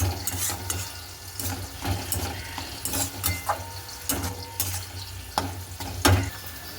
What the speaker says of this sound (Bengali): এবার শুধু ভাজা ভাজা করবো